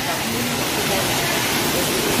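Dhaskund waterfall in Mahasamund, Chhattisgarh, a loud, dense, steady roar of rushing, fast-flowing water filling the whole moment, heard close with no break.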